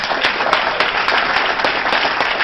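Crowd applause at a memorial breakfast, a thick, even wash of many hands clapping at once, near and fairly loud throughout, with no speech on top.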